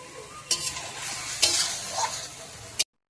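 Marinated mutton sautéing with spices in a pot for kacchi biryani, a steady sizzle broken by several sharp stirring clanks of a spoon against the pan, close, no talking, ending abruptly in silence.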